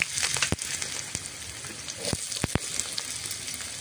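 Potatoes sizzle and fry in hot oil in a pan, a steady, quiet crackle broken by several sharp spits and pops, with no one talking.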